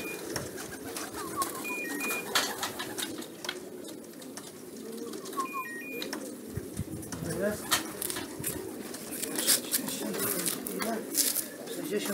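Racing pigeons returning to the loft from a 300 km race, with soft cooing and bird calls amid steady outdoor background noise, continuing throughout at a moderate distance.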